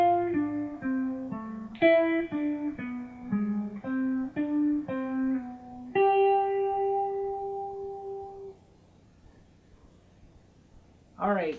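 Slow guitar lick from a song's guitar part: single picked notes and slides stepping down, close and moderately loud, closing on a long sustained note that fades before a brief strum at the end.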